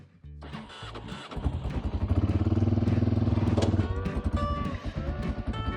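A Honda Africa Twin motorcycle engine cranks and struggles to fire, with a loud rhythmic starter churn and stumbling sputters. It nearly catches and then dies away unevenly.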